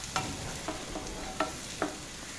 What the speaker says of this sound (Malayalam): നമ്മുടെ ചിക്കൻ്റെ ചമ്മന്തിയിലേക്കുള്ള മുളകൊക്കെ നന്നായി ഇങ്ങനെ മൊരിഞ്ഞ് വന്നിട്ടുണ്ട്